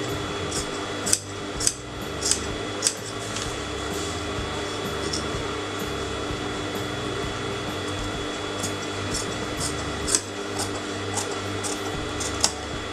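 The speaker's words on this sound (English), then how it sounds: "So now cut the inner fabric, just leaving a marginal amount of fabric out." Scissors snipping the inner fabric of a neckline, giving a handful of short, sharp, close clicks spaced irregularly over a steady low background hum, with no talking.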